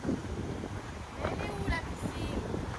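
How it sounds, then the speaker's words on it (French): Strong wind on a rainy day in Guadeloupe buffets the microphone with a continuous rumbling roar, while faint voices murmur in the background. "Aujourd'hui, beaucoup de vent."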